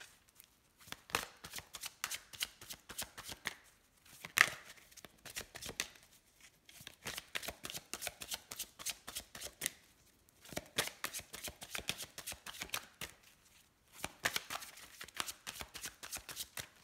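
A deck of cards being shuffled and cut by hand, with quick riffling bursts and soft flicks repeating steadily in short rounds separated by brief pauses, close and fairly quiet.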